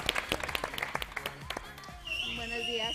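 An audience on a morning TV show applauds a contestant with a short burst of close, uneven clapping, followed by a tonal musical sting.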